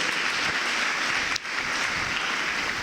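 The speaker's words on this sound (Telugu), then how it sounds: "గట్టిగా చప్పట్లు కొట్టండి, గట్టిగా." A church congregation clapping loudly at a sermon, a dense continuous wash of applause with a brief dip midway, no voices over it.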